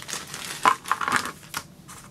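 Plastic packaging crinkles as white board game figurines for The Few and Cursed are unboxed: a quick series of close, crisp rustles and crackles with no voice.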